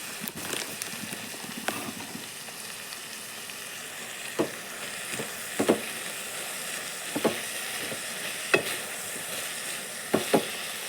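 A steady sizzling hiss of chili powder frying in a pan, with occasional scraping stirs and clinks of a spoon, close and continuous.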